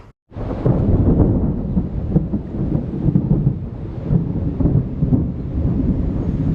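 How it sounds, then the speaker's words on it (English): Steady, dense rumble of a thunderstorm with rain, a continuous low roar and patter that begins abruptly after a brief silence and holds loud throughout. "now it's raining and lightning"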